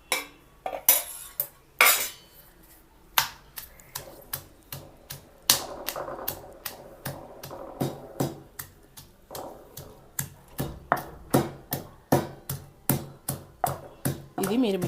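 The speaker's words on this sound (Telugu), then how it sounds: "రోట్లో అయితే టేస్ట్ బాగుంటుంది కదా, అందుకే నేను రోట్లో దంచుతున్నాను." Fried green chillies are pounded in a stone mortar with a steady run of sharp, close knocks at a regular beat, building to a quicker rhythm, while a voice talks over parts of it.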